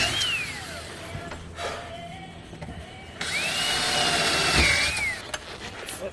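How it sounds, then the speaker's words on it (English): A power drill whines as it bores holes for mounting a solar panel on a Bayliner Ciera boat, two bursts of rising and falling motor pitch, the second longer and louder, close up. "Drill these holes."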